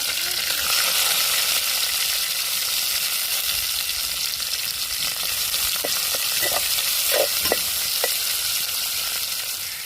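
Chopped onions fry in a pan for crab gravy, a steady close sizzle running throughout, with a few short scraping stirs of the spatula breaking through near the end, and no talking.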